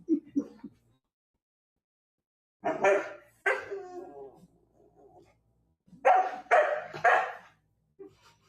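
A St. Bernard puppy barks in several short bursts separated by pauses, the yelps close and fairly loud.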